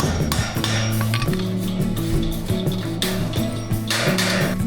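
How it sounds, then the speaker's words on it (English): A hammer drives a masonry anchor sleeve into a wall through a 6mm drilled hole, giving rapid repeated metallic taps and clinks over a ringing, busy background. "then you can hammer it home"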